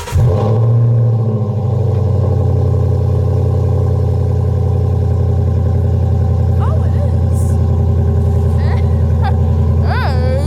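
A Ford Mustang GT's engine fires up with a sharp start, then settles into a loud, steady, deep idle rumble close by, and a few brief squeaks cut through near the end.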